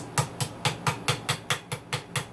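A riveting hammer strikes metal in a steady, even rhythm, about ten sharp ringing blows close by, with no voices.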